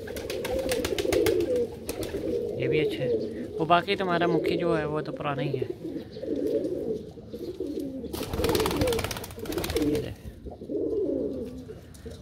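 Pigeons coo repeatedly in a loft housing a large flock, their soft rolling calls close and steady beneath someone talking throughout.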